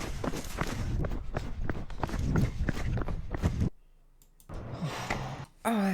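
Hurried footsteps of a person running on a trail, a fast, heavy rhythm with rough breathing, loud and close. They cut out into near silence, then return briefly before an abrupt, high-pitched sound at the end.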